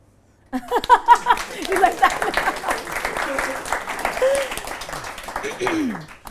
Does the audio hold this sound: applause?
yes